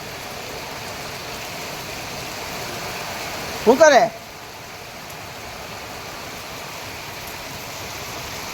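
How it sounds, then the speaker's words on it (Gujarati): Rain falls in Surat, Gujarat, as a steady moderate hiss throughout. A person speaks briefly near the middle, and the rain keeps going underneath. "કેટલો મસ્ત મજાનો વરસાદ છે આજે સુરત ગુજરાતમાં"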